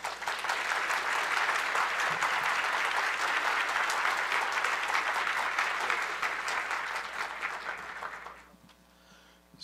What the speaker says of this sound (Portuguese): Celso Antônio Bandeira de Mello, e uma salva de palmas a eles.